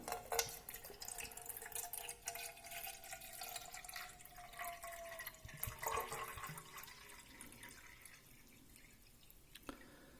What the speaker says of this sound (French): C'est parti, nous versons l'eau dans le cube.